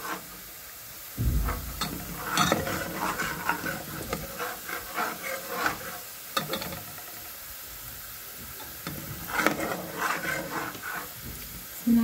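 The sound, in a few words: onions frying in a pan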